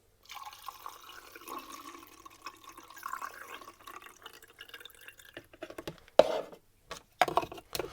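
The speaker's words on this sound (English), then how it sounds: "I'll pour the developer in first." Film developer pours and trickles steadily into a developing tank, with soft splashes and a few sharper drips and clunks near the end.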